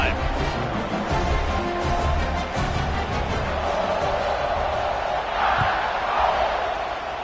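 Stadium crowd in College Football 26 at a kickoff after a scoring drive, a loud continuous roar with swelling cheers and whoops, a distinct surge near the end.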